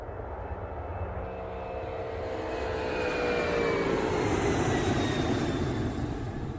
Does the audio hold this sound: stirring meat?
no